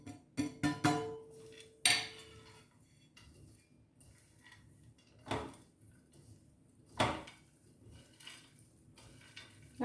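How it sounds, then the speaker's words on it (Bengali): A spoon clinks and scrapes in a bowl while dry fruit laddu ingredients of seeds, sesame and ground dates are mixed, irregular metallic knocks and scrapes in small clusters with quiet gaps between, close and fairly soft. "একসাথে সব মিশিয়ে নিচ্ছি ভালো করে"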